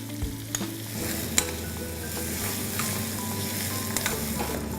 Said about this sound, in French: Nous allons commencer par faire fondre le beurre pour faire revenir sans coloration les oignons